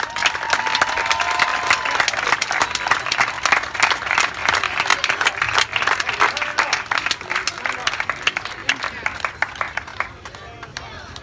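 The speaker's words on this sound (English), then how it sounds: "give all the teams that participated in the tournament a nice round of applause" An audience at a tournament in Mount Vernon, Illinois gives the participating teams a round of applause: many hands clapping in a thick, crackling wash that holds for about ten seconds before thinning out, with some voices mixed in.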